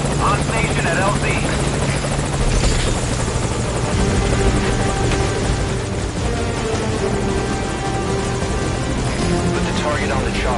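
A helicopter hovers close in the stealth game Metal Gear Solid Ground Zeroes, its rotor throbbing loud and steady with engine whine, while voices talk over it throughout.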